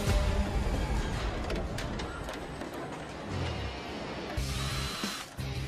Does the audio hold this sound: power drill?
yes